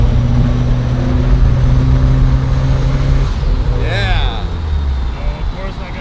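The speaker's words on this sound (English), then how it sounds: "we got the blow valve sounds" A tuned car on a city street revs its engine with a deep droning note, then the throttle drops and a sharp turbo blow-off valve hiss and flutter follows, with voices talking nearby.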